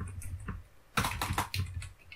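Computer keyboard typing while entering a set expression in Qlik software, a quiet start followed by two bursts of rapid, close key clicks with no voices.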